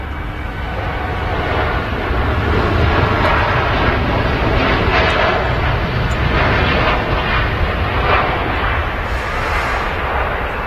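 Roar of a jet airliner on its takeoff run at Manchester Airport, a lightly loaded repositioning flight to London Heathrow, loud and steady throughout with a broad rumbling thrust and a slight swell around the middle.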